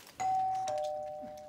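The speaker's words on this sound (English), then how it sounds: "the doorbell went again" Cartoon doorbell rings once with a clear two-tone ding-dong chime, bright and close, fading gradually after the second tone, with no talking.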